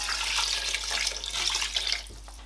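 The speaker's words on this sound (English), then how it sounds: "So we're going to add water." Water poured from a container into a pot of oxtail meat pepper soup with yam cooking on the stove, a steady splashing rush that carries most of the clip and fades near the end.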